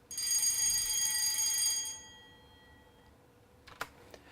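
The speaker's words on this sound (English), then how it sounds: "it was just a school bell, but it worked very well for this" A school bell rings loudly and continuously as a demolition warning, a bright metallic clanging ring that stops abruptly after about two seconds, followed by a quiet lull and a few faint sharp knocks.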